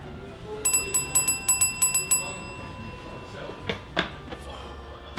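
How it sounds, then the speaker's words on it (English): A bell behind a counter is rung repeatedly, giving about ten quick, bright dings in a rapid run. A few thumps and noises follow at close range. "There's a bell behind it. You ring it 10 times,"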